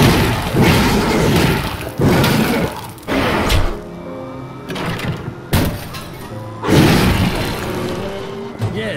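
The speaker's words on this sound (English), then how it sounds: "big explosion" In the video game The Darkness II, a big explosion sets off a series of heavy, loud booms and shattering crashes in separate bursts, separated by brief quieter gaps with ringing debris.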